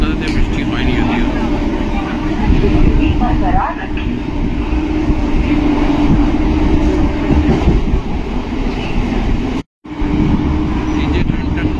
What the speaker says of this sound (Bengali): এই যে ট্রেনটা বৈদ্যবাটি ঢুকছে